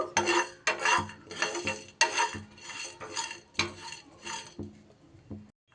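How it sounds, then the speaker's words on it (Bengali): Spices being dry-roasted in a pan, stirred with a spatula in repeated scraping strokes, about eight rhythmic scrapes close up and fairly loud, with no talk. "আমি একটা প্যানের মধ্যে বসিয়ে এটা নাড়াচাড়া করে নেব একটু ভাজা ভাজা করে নিয়ে"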